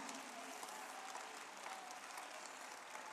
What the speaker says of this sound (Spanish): Alguien dele un aplauso fuerte, fuerte al Rey de la Gloria.